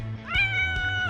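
A house cat gives one drawn-out meow, rising and then falling, loud and close over a low steady hum, with no talking.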